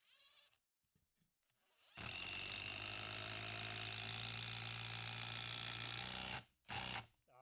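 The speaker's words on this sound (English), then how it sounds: "let's see what this new 18-volt Festool does" A Festool 18-volt impact driver sinking a screw, a loud, rapid hammering buzz running about four seconds without pause, then two short bursts after a brief stop, with quiet handling sounds before.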